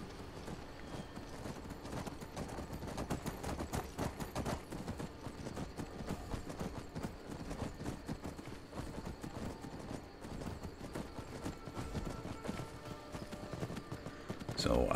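Horse hooves clip-clopping steadily at a run in the game Skyrim, a continuous rapid rhythm at moderate level throughout, with a voice talking over it.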